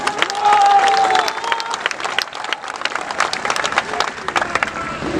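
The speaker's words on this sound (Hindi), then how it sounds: "आप लोगों ने तालियां बजाकर हम लोगों का स्वागत किया है" Steady applause from a crowd at an outdoor political rally in the Barh assembly constituency, dense continuous clapping for about five seconds with some scattered cheering mixed in, close and fairly loud throughout.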